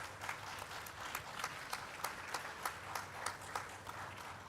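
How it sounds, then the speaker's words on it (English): An audience at a conference panel on school milk programs and public nutrition gives steady, moderately distant applause, a continuous patter of many hands with occasional sharper claps. "can we have a big round of applause"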